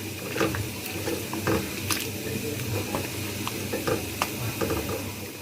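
Chicken white karahi being stirred in a pan after tetra pack cream is added, with soft sizzling and repeated wet scrapes and squelches, close up and without talking.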